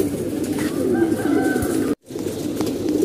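Pigeons at a racing pigeon loft coo and murmur steadily in a dense flock chorus, with a brief dropout near the middle before the cooing resumes.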